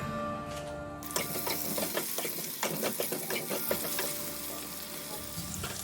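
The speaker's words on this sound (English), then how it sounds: "Let the oil heat up and in goes our potatoes. I will fry them till they turn golden brown." Potatoes frying in hot oil in a pan, a steady close sizzle broken by bursts of crackling and spattering, with no voices.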